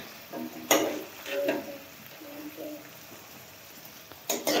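Meat goes into a hot pan of browned ingredients for chicken soup, a sizzling hiss with clanks of a utensil against the pan, while people talk nearby.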